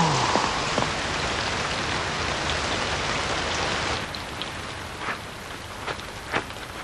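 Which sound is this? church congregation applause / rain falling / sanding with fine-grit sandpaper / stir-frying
rain falling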